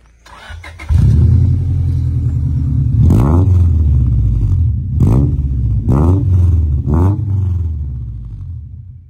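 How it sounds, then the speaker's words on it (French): A Honda Civic EJ9 engine revs hard with a deep, burbling Subaru-like tone, starting up and then blipping the throttle in four sharp rising bursts over a sustained loud, close idle rumble. "ça fait vraiment un bruit de Subaru hein, pour une Honda."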